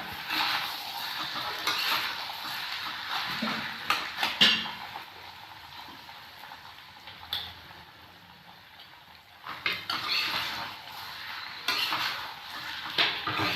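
A spoon stirs gobi manchurian in a pan, producing scraping and clinking against the metal in irregular bursts, moderately close and fairly quiet, with brief pauses between strokes.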